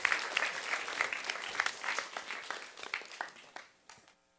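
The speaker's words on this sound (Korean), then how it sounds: "여러분들 큰 박수 부탁드릴게요." An audience at a student lecture event claps to welcome a Korea University student speaker, a brisk burst of many hands that starts strong and gradually thins out and fades to near silence by the end.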